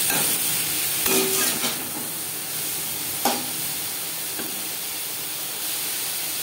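Bottle gourd stalks mixed with turmeric and salt fry in a pan with a constant close sizzle, broken by a few brief scraping stirs.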